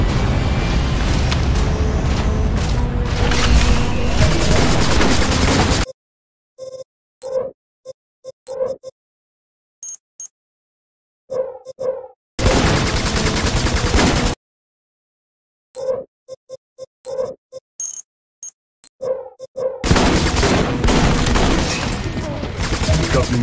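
Bursts of gunfire ring out at a firing range in the game Section 8: Prejudice, with stretches of rapid automatic fire and short separated volleys broken by silent gaps.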